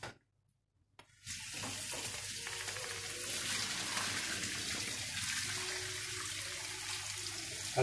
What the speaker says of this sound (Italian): Al tempo stesso con l'acqua calda pulisco il tagliere, così come adesso.